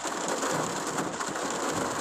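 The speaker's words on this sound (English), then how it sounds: "Like it's raining right now. It's storming." Steady rain pours during a storm, a dense continuous hiss of drops striking surfaces, even and close with no pauses and no voices.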